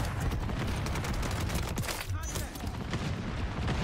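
Modern Warfare 3 gunfire from the SUPERI 46 weapon, dense continuous automatic bursts with booming impacts filling the whole stretch, loud and close, with faint game sounds layered beneath.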